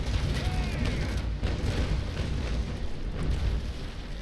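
Ship cannons boom in a naval sailing battle in Naval Action, a basic cutter against a privateer, dense overlapping blasts and rumble filling the whole stretch at high level.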